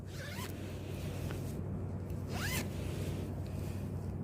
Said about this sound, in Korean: 지퍼 한번 올려봅니다.